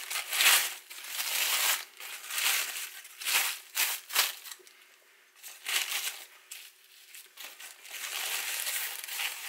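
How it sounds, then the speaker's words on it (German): Paper crinkles and crumples in bursts as bread is folded up in it, close and fairly quiet, with short pauses between handlings. "Schlagen das Brot wieder ein."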